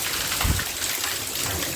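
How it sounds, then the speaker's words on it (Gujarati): Steady, dense hiss of rain pouring down, loud and continuous, with a soft thump near the start. "અત્યારે બહુ જોરદાર વરસાદ આવે"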